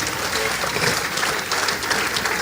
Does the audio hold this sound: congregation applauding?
yes